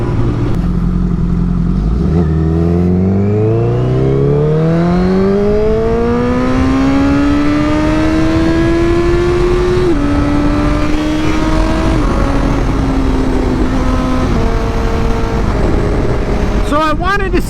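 A Honda CBR1000RR Fireblade Repsol sport motorcycle revs hard in first gear, its engine note climbing steadily in a long continuous pull, loud and close, with wind and road noise throughout and voices talking over it.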